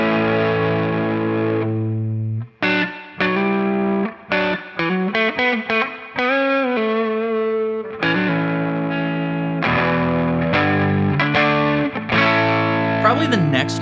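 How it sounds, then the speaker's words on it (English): Electric guitar played through a compressor into a squishy overdrive pedal, a run of sustained distorted chords and notes with short gaps between phrases, loud and close with no talking. "putting a compressor in front of a kind of squishy overdrive pedal creates a really great"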